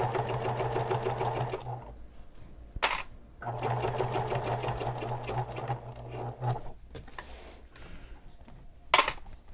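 Sewing machine running along a handbag seam in steady close bursts of rapid stitching, pausing twice with sharp clicks between runs.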